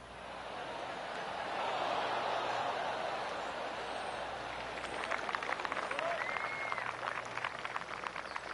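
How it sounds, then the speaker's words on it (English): Golf crowd applause around a course in the PGA Tour 2K25 video game, a swelling soft wash of claps with scattered sharper claps later, under quiet ambience. "Oh, I can hear the golf claps around the course."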